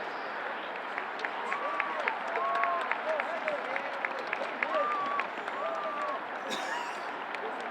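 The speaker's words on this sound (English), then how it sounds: "If we could please give a round of applause for Heather Davis." A crowd at a high school boys varsity soccer game applauds in a continuous wash of clapping and cheering, with thin whistle-like tones rising above it.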